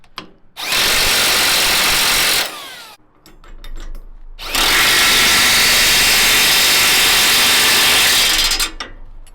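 A power tool whirs loudly in two long bursts while tightening bolts during fitting of a Kelly 400 loader onto a Massey 35 tractor, with ratcheting clicks in the short gap between runs.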